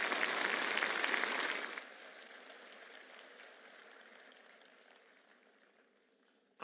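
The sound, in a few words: audience applause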